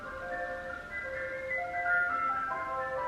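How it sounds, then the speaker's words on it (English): An ice cream van's chime plays the Match of the Day theme, a thin, tinkly melody heard faintly at a distance over a low outdoor hum, with no talking. "That's our local ice cream van, and the song that it plays is the Match of the Day theme."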